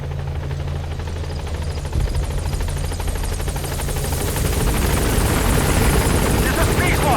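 The Pequod helicopter in Metal Gear Solid V approaches a landing zone, its steady rotor thrum and turbine whine growing louder and nearer over several seconds.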